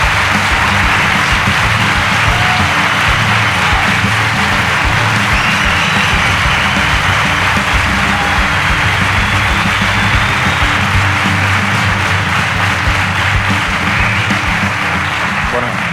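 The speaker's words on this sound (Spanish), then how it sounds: "Os voy a pedir un aplauso para que se os oiga." Dense, steady applause from a packed live audience at a subscriber-milestone event, a continuous loud wash of clapping that fills the whole stretch without pause.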